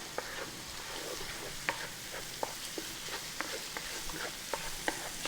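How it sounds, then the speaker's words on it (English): A wooden spoon scrapes and stirs flour into sizzling beef stroganoff in a pan, with steady frying hiss and repeated light clicks of the spoon against the pan. "Get a wooden spoon,"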